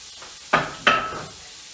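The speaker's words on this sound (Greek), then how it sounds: "Θα σουτάρω τις γαρίδες πάρα πολύ λίγο χρόνο" Shrimp hit hot olive oil in a frying pan for homemade shrimp pasta, giving two sharp, loud sizzling bursts close by, each fading into a softer hiss.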